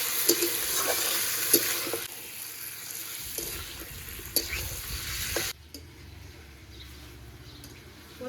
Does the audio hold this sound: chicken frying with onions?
yes